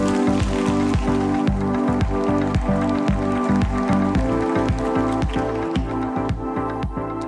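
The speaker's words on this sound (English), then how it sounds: "I'm so glad that it's actually raining" Rain falls steadily outdoors, a dense, continuous patter of drops striking surfaces with frequent sharper drips, fairly loud and close with no voices.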